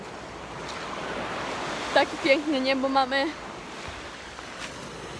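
Sea waves wash onto a beach at night, a steady soft roar throughout, while someone speaks briefly over it midway.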